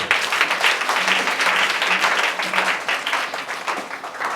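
A church congregation applauding to acclaim Jesus, steady loud clapping from many hands filling the room throughout, with no speech over it.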